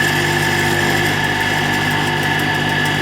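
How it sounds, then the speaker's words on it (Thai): The motor of a soy milk maker runs after being plugged in, a loud, steady mechanical hum and whine with no change in pitch and no talking. "เดี๋ยวจะเสียบปลั๊กให้ลองดูนะครับ ว่ามันการทำงานยังไงนะครับ"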